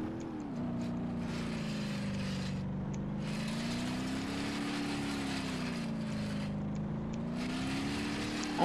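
Car engine in BeamNG.drive droning steadily at high revs, loud and continuous with a slowly wavering pitch and no voices.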